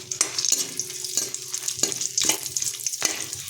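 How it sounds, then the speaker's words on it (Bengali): Bay leaves, dried chilies and whole garam masala spices sizzle and crackle in hot oil for a chicken dish, with repeated stirring scrapes punctuating the steady frying. "আর এই গরম তেলের উপরে আমরা যোগ করব তেজপাতা, শুকনো লঙ্কা, সামান্য কিছু পরিমাণ গোটা গরম মশলা আমরা যোগ করে দিয়েছি"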